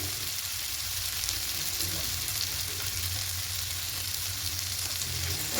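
Chicken with masala and chana sizzling steadily as it is stir-fried in a pan while salt is worked in, a continuous close, even crackle with no talking.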